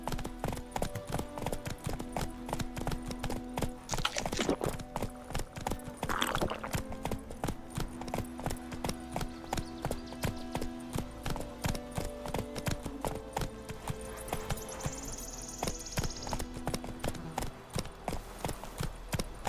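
The horse Roach trots steadily in The Witcher 3, hooves clip-clopping in a fast even rhythm close by, with game music and a brief high tone in the background.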